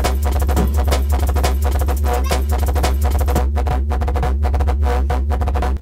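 A wobbly, fast jungle bass synth preset made in Vital rolls over a shuffling breakbeat, the drums and bass loud and continuous before the beat thins out near the end.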